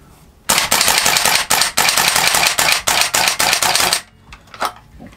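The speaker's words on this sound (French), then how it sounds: "Oh, je pense qu'avec une charge de gaz, on pourra tirer les 20 billes." Umarex/VFC PSG-1 gas blowback airsoft rifle firing BBs in a rapid run of loud, sharp cracks with small gaps for about three and a half seconds, then a few faint clicks as it stops.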